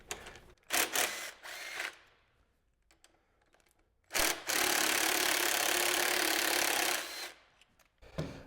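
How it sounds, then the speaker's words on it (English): A small impact driver spins out the 12 mm bolts of a T7 brake pedal, with a few short clicks and taps, then a loud sustained whirring burst of about three seconds, followed by more tapping. "And then if you have a small impact, you can spin them out that way."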